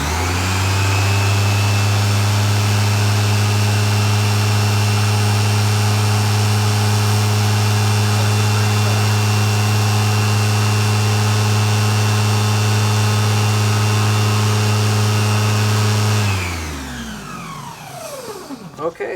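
An upright vacuum cleaner runs on high with its brush roll spinning and bag installed, a loud, steady, close motor whine that holds for about sixteen seconds before the machine switches off and winds down.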